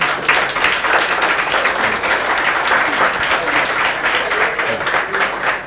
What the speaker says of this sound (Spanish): un aplauso por favor para José